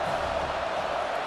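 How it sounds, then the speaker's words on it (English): Stadium crowd noise from a college football video game, TCU Horned Frogs against Oklahoma State Cowboys, a steady broad roar rising as the defense holds in the red zone, continuous throughout. "The crowd coming to life here trying to help this defense down in the red zone."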